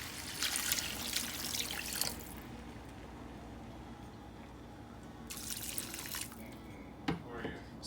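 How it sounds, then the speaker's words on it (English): Water being poured into a cooking pot for a Jamaican steamed fish and okra dish, a steady splashing pour that stops, resumes briefly later, then ends with a couple of clanks, close by. "I'm just going to add the water at this point."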